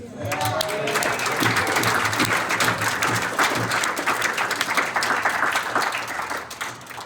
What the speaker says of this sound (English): I think we need a big cheer for Georgie